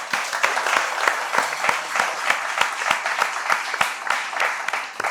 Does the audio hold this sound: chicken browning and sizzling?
no